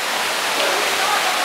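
Steady, loud rush of falling water from the tall indoor waterfall inside the Cloud Forest dome at Gardens by the Bay, Singapore, a dense unbroken roar filling the space.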